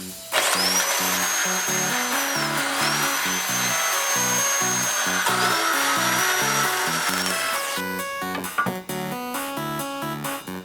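A power tool grinds through a metal bracket on a Lexus SC300 with a loud, steady, whining cut that rises and falls in pitch, then stops near the end.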